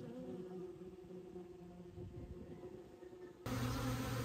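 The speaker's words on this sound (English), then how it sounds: "that's most likely the bees doing their orientation flights" Honey bees buzz around a hive entrance during orientation flights, a faint steady drone of many wings close by that swells louder near the end.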